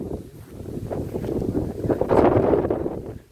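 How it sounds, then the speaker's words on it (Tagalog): Strong wind buffets the microphone in rough, gusty surges, building louder toward the end with a low rumbling roar. "Sobrang mahangin po dito."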